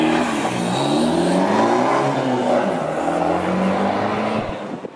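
A remapped 1.9 TDI Volkswagen Golf diesel engine with a cat-back exhaust revs and pulls away, a steady throaty drone that rises in pitch and then fades off.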